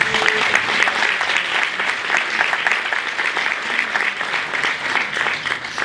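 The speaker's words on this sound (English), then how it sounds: "Let us give her a round of applause." Sustained, thick applause from a crowd at the Exceptional Women of Color awards and expo, many hands clapping steadily for several seconds at fairly loud level.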